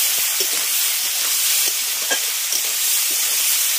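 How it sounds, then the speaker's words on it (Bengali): Potatoes frying in a pan with turmeric powder and salt for a rustic village-style fish curry, a steady close sizzle with soft scattered crackles and light stirring taps throughout. "হলুদের গুঁড়ো, লবণ, আলুগুলো প্রথমে 3 মিনিট ভেজে নেব"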